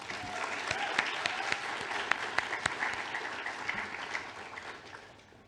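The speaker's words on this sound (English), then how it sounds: "So a massive round of applause for Shika" At a volunteering awards ceremony, an audience breaks into applause that holds steady with distinct sharp claps standing out, then gradually fades toward the end.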